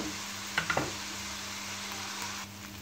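Soy sauce, chili sauce and vinegar being mixed in a pan for a homemade pizza cooked without an oven, heard as a faint sizzle with a low hum and a few quick utensil taps early on, no talk.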